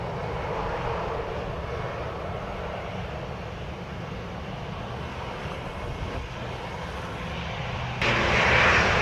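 United airliner engines spool up on runway 07 for takeoff, a steady broadband roar filling the whole stretch and growing louder near the end.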